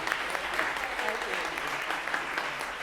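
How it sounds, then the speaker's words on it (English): An audience at a city council meeting gives dense, sustained applause at moderate volume, with faint voices mixed in beneath it. "Y'all clap better than that."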